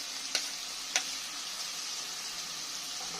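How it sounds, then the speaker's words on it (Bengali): Spices with ginger paste fry quietly in a pan, a soft continuous sizzle with two sharp clicks of a utensil early on and no voices. "একটু সব মশলাগুলো একসঙ্গে ভালো করে কষে নেব, যাতে আদা কাঁচা গন্ধটা না থাকে"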